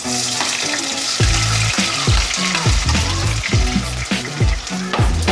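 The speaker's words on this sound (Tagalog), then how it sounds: "At pag mainit na yung mantika sa kawali, we can start with our onion." Onion sautéing in hot oil in a kawali, a loud, dense sizzle running throughout with rhythmic low scraping or stirring movements, close up and with no voices.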